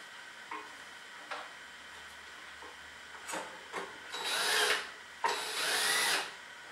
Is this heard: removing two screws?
yes